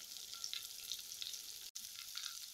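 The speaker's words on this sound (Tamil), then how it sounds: "இப்போ இதில் ஒரு 10 சின்ன வெங்காயம் பொடியாக நறுக்கினது சேர்த்துக்கிறேன்" Finely chopped small shallots sizzle steadily in a hot kadai while frying, a continuous close crackle with one brief dropout partway through.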